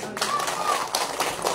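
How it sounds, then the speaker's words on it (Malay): Audience applause at a political townhall event for a Barisan Nasional candidate in Usukan, a steady clatter of clapping from a crowd that fills the short moment without pause. "Kita berikan tepukan sekali lagi."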